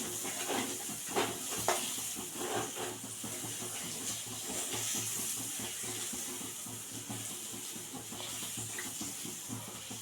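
Small onions sizzle in hot oil, a continuous broadband hiss with soft scraping and clinks from stirring, fairly quiet and close with no talk.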